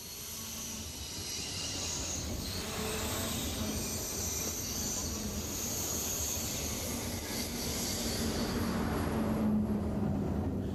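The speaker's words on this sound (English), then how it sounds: "The second branch of the TGV Atlantique runs to Tours, linking up with the classic main line to Bordeaux." A TGV Atlantique high-speed train runs along the line, a steady broadband rush and rumble holding level for the whole stretch with no voices.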